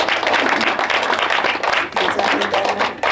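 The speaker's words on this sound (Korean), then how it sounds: "박수로 환영해 주세요." A congregation at a church healing service claps to welcome a speaker, close and loud rhythmic hand claps that pause briefly midway, then resume with a low hum underneath.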